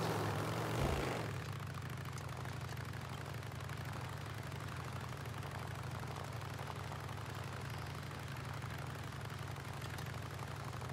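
A motorcycle idles in the game Days Gone, a low steady engine drone after a brief louder burst at the start, continuing evenly and fairly quietly with no voices.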